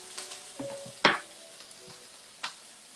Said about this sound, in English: You hear that sizzling sound? You want to keep it that sizzling sound.